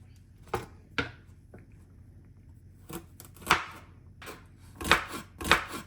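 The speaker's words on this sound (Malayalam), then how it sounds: "ഇനി നമുക്കതൊന്ന് പെട്ടെന്ന് അരിഞ്ഞെടുക്കാം." Long beans being cut with a knife on a board give sharp, close chopping knocks, isolated at first and then coming in quicker clusters, with no talking.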